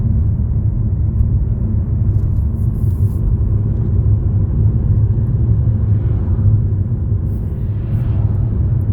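An MG ZS crossover's petrol engine drones loudly and steadily above three thousand rpm as the car climbs uphill through town, a deep continuous rumble heard from inside the cabin with no break.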